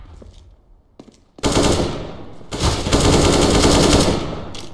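Rapid automatic gunfire in the competitive shooter CS:GO. Loud, dense bursts of shots erupt after a quiet start and continue almost without a break to the end, with no voices.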